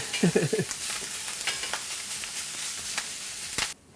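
A hash brown of dried pressed sauerkraut fries in a pan, a soft steady sizzle with a brief squeak and scraping near the start.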